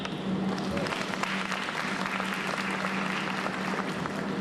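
Audience applause at a wellness day luncheon and benefit information session, honoring vendors: steady, dense clapping from a room of people sustained evenly throughout, with a faint low hum beneath.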